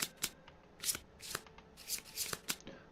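Cards from the Kingdom Death board game shuffled by hand in a series of quick, crisp riffles and snaps, close up and repeated several times within a few seconds.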